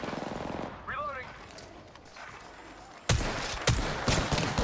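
Bursts of gunfire in the Apex Legends battle royale game, a few sharp shots after a quieter stretch with in-game voice lines, then a louder rapid volley near the end.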